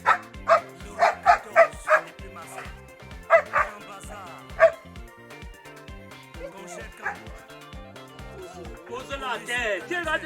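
A dog barks in a quick series of close, sharp yips and bow-wows, then whimpers, with people talking in between.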